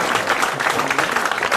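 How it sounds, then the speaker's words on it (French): A studio audience on a French TV quiz show applauds a prizewinning contestant, a brief, dense burst of clapping from many hands, steady and close. "Des applaudissements pour le bénéficiaire du mandat."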